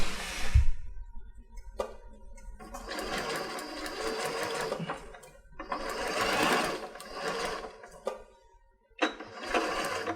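Sewing machine stitching a paper-pieced seam for a mini house quilt block, running in three long bursts of steady whirring with short pauses and faint clicks between them.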